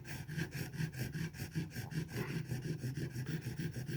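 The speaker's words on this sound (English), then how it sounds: "I'm going to take a wooden dowel. I'm going to put some 220 sticky sandpaper on it." Hand sanding with 220-grit sticky sandpaper wrapped on a wooden dowel, working a 1982 Japanese-made Fender Stratocaster; steady rhythmic back-and-forth rasping strokes, quiet and close, no talk.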